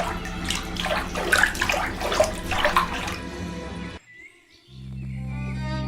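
Water poured out for a thirsty owl, a continuous splashing gush for several seconds that stops suddenly, followed by a quiet low hum.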